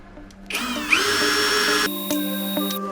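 A Grand DA 20-2 BL cordless brushless screwdriver spins up at first speed into a close, steady whining motor tone that holds level, with a slight change in pitch partway through.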